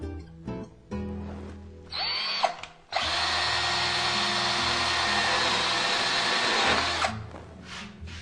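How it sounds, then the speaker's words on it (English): A power drill whirs in short bursts while drilling through the back of a kitchen cabinet, then runs steadily at high speed for several seconds, loud and close, before winding down. "the spot where I need to drill for my wire to come through"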